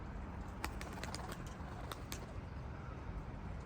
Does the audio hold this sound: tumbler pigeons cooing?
yes